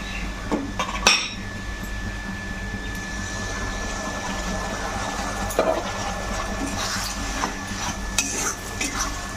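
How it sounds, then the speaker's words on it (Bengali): Masala paste stirred into onions and garlic frying in a pan for Bengali chicken curry, with a soft sizzle under repeated spoon clinks and scrapes against the pan. "এবার তৈরি করা মশলার পেস্টটা এর মধ্যে দিয়ে দেবো"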